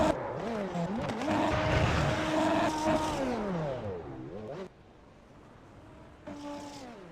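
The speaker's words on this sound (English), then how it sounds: "these Super Formula machines just sound fantastic. Loving the engine whine out of these machines." Super Formula race cars in a racing video game, on the Belgian Grand Prix circuit: a loud, high engine whine rises and falls through gear changes, fades away as the car pulls off, then returns briefly near the end.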